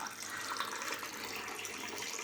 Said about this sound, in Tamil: இப்போ நான் வந்து பாதி பங்கு தண்ணி கலக்கிறேன்